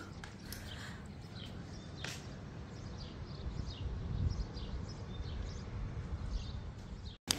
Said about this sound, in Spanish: Se escuchan los pajaritos.